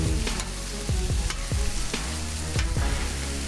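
Onions and bell peppers pushed across a hot griddle while making burritos, a loud continuous sizzle broken by repeated rhythmic scraping strokes of a metal spatula, close and without any voices.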